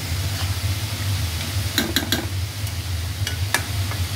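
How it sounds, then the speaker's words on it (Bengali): Chicken meat being stirred as it fries in a pan: a steady sizzle underlies several sharp scraping and clinking strikes of a utensil against the pan, close and fairly loud, with no talk. "এখন মাংসটা একটু নাড়া দিয়ে দিতেছি।"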